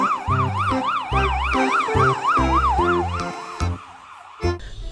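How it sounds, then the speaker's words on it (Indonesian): A toy ambulance's wailing siren rises and falls in steady cycles, loud and close, over a pulsing low engine-like throb, fading out near the end. "Ini mobil ambulan"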